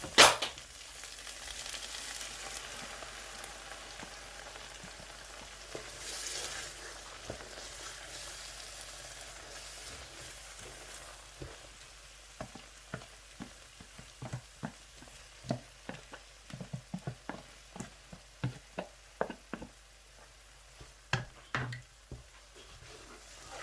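Egusi soup simmers and sizzles in a pot while a spoon stirs it, knocking out a run of sharp clicks and scrapes against the pot that grow busier toward the end, over a steady low frying hiss.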